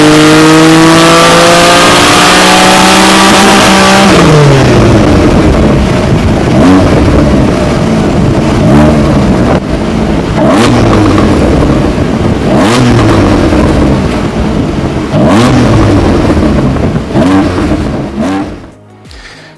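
A Porsche 718 Cayman GTS 4.0-litre engine with a Stage 1 remap revs up loudly, then settles into a throaty idle with repeated GT4-style exhaust pops and burbles before cutting off.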